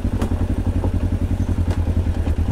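Motorcycle engine braking on a quiet downhill road in the Apuseni mountains, a steady loud low rumble with rhythmic pulsing throughout and a few faint clattering knocks.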